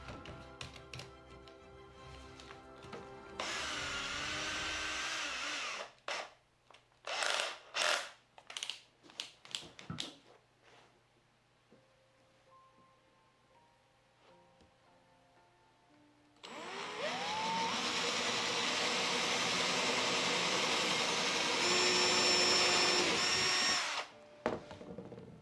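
A power drill bores a hole through an apron strap in a workshop. A short whirring burst is followed by choppy on-off tool pulses and a quiet gap, then a longer steady drilling run.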